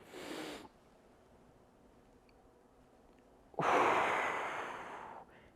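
Deep breaths during a beginner breathing exercise: a short airy exhale, a pause, then a long loud breath that fades out slowly, close to the microphone.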